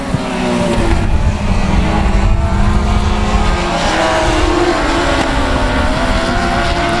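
Race cars roar around the South Texas Speedway dirt oval in a tight final lap, engines loud and continuous with a dense, rising and falling drone of several cars near the microphone.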